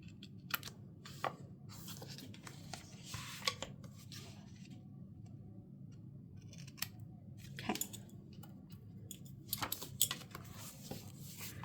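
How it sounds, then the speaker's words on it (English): Scissors snip off small paper tabs from a washi and PET tape journal spread, giving repeated crisp, close cuts scattered across a quiet background with light paper rustling between them. "I'm actually good to cut off these little tabs"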